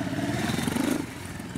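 A touring-spec motorcycle engine revs at a gymkhana competition, a steady mid-pitched drone with rapid pulsing throb heard up close and fairly loud, without any voices.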